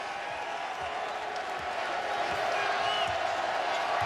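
A basketball arena crowd at a UConn Huskies vs. Houston Cougars AAC tournament quarterfinal gives a sustained roar of cheering and applause, steady and broad, heard from a distance throughout.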